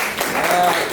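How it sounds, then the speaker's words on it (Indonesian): A brief burst of classroom clapping from students praising a classmate's recitation during a wudhu lesson, a dense steady patter lasting about a second with voices mixed in. "beri tepuk tangan"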